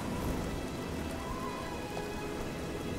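Steady rain pours in the video game Oblivion outside a fort, a dense, even hiss of drops on surfaces that holds at the same level throughout, with faint rumbling underneath and no voices.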